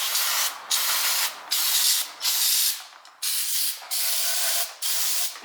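Repeated bursts of aerosol cleaner soak a Mazda Miata rear differential, each hissing spray lasting about a second with short gaps between, close and loud.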